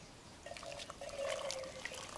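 Hot water from a camp kettle pours through a GSI Coffee Rocket pour-over funnel into a cup of about 8 ounces, making a faint, steady trickle that swells briefly in the middle, with no talking.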